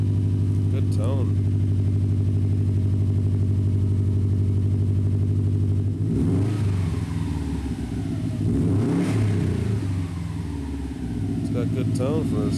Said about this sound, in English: It's got good tone for us still having cats and otherwise stock exhaust besides muffler delete.